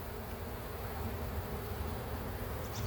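Dense, steady hum of many honeybees buzzing in a heavily populated hive opened for a spring inspection, continuous and close with no voices.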